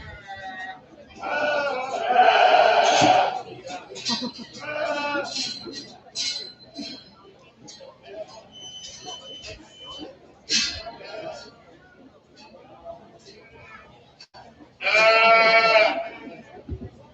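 Sheep bleating at a 4-H county fair lamb show, several loud drawn-out bleats with a crowd murmuring and an announcer talking in between.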